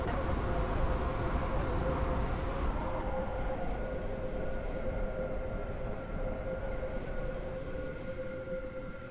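A train runs steadily in the Roblox game Stepford County Railway, a continuous rumble carrying a sustained tonal whine that slowly fades over the stretch, with no voices heard.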